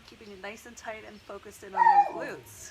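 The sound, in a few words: dog barking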